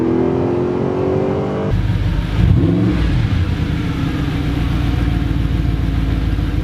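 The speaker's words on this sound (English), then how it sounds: "This car is cool, but this exhaust sound" An Audi R8 on its stock exhaust idles, then revs sharply, rising to a loud engine roar before settling into a rumbling idle. The sound is close and alone, with no voices.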